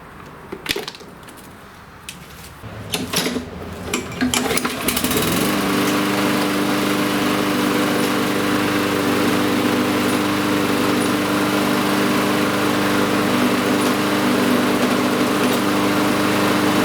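A push lawn mower engine with a repaired broken engine block bolt and seized blade adapter starts after a few clattering pulls and knocks, then settles into a loud, steady running drone close by.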